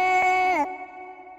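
An unprocessed vocal chant sample meant for a drill beat: one sustained, wailing sung tone with a slight bend, breaking off abruptly after about two-thirds of a second, with a faint held tone lingering beneath.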